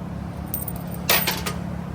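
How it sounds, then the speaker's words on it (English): Metal fender washers dropped into the fuel tank of a barn-find Honda Big Red, making brief bursts of bright metallic jangling and rattling, a louder cluster near the end, close by with no talk. "Got some fender washers here. Throw them suckers in there."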